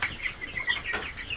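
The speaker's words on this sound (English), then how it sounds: "These are chickens, and that is a turkey." Chickens on a homestead cluck and murmur in a steady, busy flock chatter at close range, with turkeys kept in the same pen.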